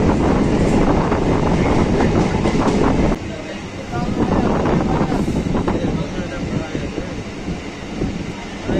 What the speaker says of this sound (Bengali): বন্ধুরা, আমাদের ট্রেন ছেড়ে দিল চাকদাহা থেকে।